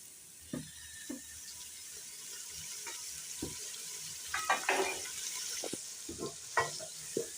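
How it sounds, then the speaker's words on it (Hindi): Water splashes into masala frying in a pan for aloo kofta, triggering a burst of hissing sizzle among quiet spoon clinks and soft stirring scrapes. "अब हम पानी डालकर दम पे रख देंगे।"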